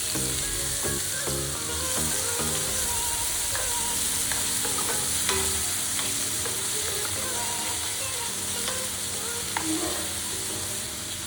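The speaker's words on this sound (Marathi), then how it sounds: "कांदा टोमॅटोचा कलर चेंज होईपर्यंत आपल्याला हे परतून घ्यायचं आहे" Finely chopped onion and tomato sauté in a pan for paneer bhurji, a constant close sizzle broken by frequent scraping and clinking as a utensil stirs them.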